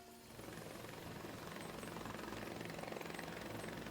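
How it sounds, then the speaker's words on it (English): A video game helicopter flies out, its rotor a steady, dense thrum that builds slightly and holds at an even level, with no talk over it. "The helicopter's flying out."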